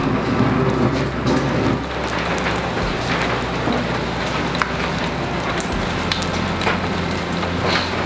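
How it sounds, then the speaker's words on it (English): Rain falling steadily outside a garage, a dense continuous hiss and patter with occasional sharper drips and taps, heard from inside and fairly close, with no one speaking. "We've got rain going again."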